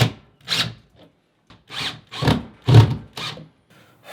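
Short bursts of a drill boring into drywall to fit wall anchors, about six rough grinding pulses of under half a second each with brief pauses between, close and fairly loud.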